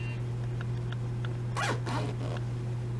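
Zipper on an inside-out formal gown with shirred fabric, drawn up in two quick rasping pulls close by, after a few soft taps against a steady low hum.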